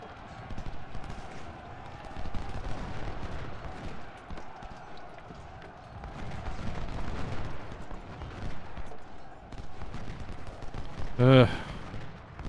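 Musket and rifle volleys crackle in the Ultimate General: Civil War battle, a steady rolling din of massed gunfire with a sharp louder report near the end, while a voice talks over it.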